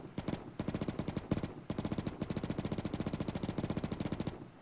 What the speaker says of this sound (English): Somebody's shooting him from the top of the rocks.